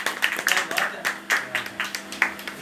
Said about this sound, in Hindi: बीरू जी के लिए जोरदार ताली बजा के दिखा दो